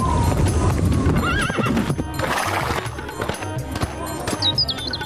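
A mare's hooves clip-clop steadily and close throughout, with several loud neighs and whinnies breaking in over the hoofbeats.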